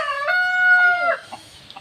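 A rooster gives one loud, clear crow at close range, followed by a few short, soft clucks. There is no talking.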